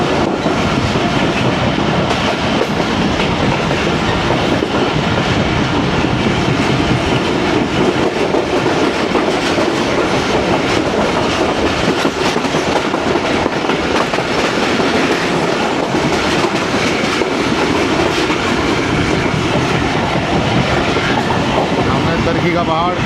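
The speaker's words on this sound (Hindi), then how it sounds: "सर पे रेल चल रही है।" A passenger train on the Lahore to Rawalpindi line rumbles loud and close for the whole stretch, its wheels clattering in a steady clickety-clack, with some indistinct voices underneath.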